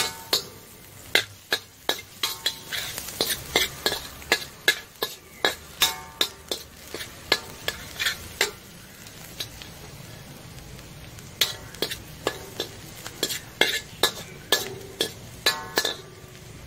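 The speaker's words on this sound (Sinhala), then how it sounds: "දැන් මම ඒකට chop කරගත්ත සුදු ලුණු ටිකත් මෙහෙම එකතු කරලා" A utensil stirs chopped garlic in hot oil in a pan, giving sharp, irregular metallic clinks over a faint sizzle, close by with short quieter stretches.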